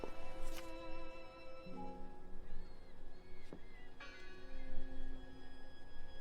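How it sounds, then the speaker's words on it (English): A church bell in the video game Draugen tolls in several separate strikes, each ringing out with a long sustained decay, fairly faint and distant over a low ambient background. "that looks like the rope for ringing the bell, but there's no one pulling it"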